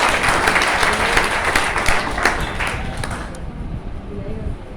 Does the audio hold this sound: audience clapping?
yes